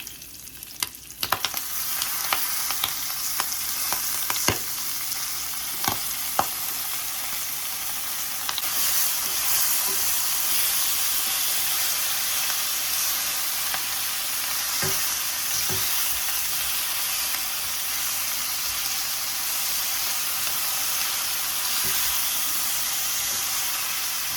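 Greens sizzle and fry steadily in a hot pan, a dense continuous hiss with a few sharp clicks and clatters early on, close and fairly loud throughout.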